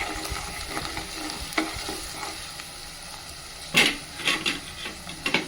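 Ginger garlic paste with salt and turmeric frying in a pan for a meal maker curry, giving a low steady sizzle broken by several louder scraping and stirring strokes near the end.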